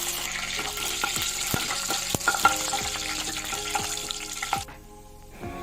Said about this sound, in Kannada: ನೆಕ್ಸ್ಟು ಎಲ್ಲ ಸ್ಪೈಸಸ್ನು ಹಾಕಿ ಲೋ ಫ್ಲೇಮಲ್ಲಿ ಫ್ರೈ ಮಾಡ್ಕೊಳ್ಳಿ